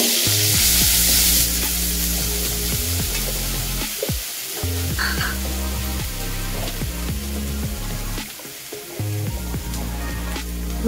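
Ginger and garlic paste sizzles in a hot wok (kadai) for a Bengali soybean and potato dish, a steady frying hiss with a spatula scraping and stirring now and then, close and clear.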